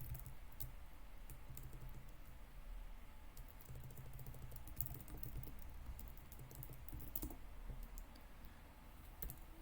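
Close-up typing of a terminal command on a computer keyboard, a quick irregular run of crisp key clicks with a few louder strokes, no talking.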